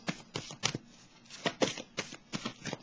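Playing cards handled during a card reading for the Pisces sign, heard as a series of quick papery riffling bursts separated by short pauses, close and fairly soft, with no talk.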